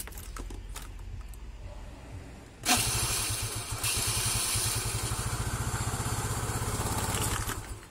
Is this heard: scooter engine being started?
yes